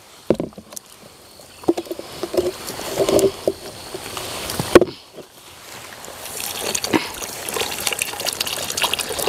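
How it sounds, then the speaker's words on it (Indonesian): Water poured and splashed into a container outdoors, gushing in uneven bursts with sloshing and knocks, moderately close and without talk. "Kita tambah dulu airnya guys"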